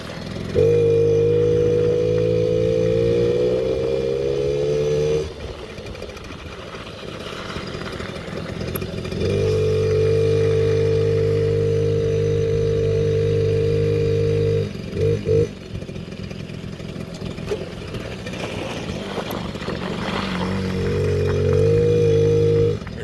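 Rebuilt 2001-2009 Suzuki JR 50 small motorcycle engine running loud and close, holding steady revs in long stretches with brief drops and rough clattering gaps between, no talking.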